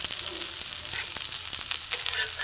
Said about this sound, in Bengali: গ্যাসটা কমিয়ে দিয়ে ধিমে আছে আস্তে আস্তে ভাজতে হবে।